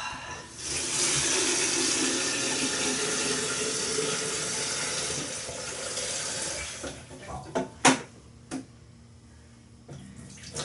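A tap runs steadily into a container, filling it with water for brewing a Brewmaker pilsner lager, then shuts off, leaving a few close knocks and drips.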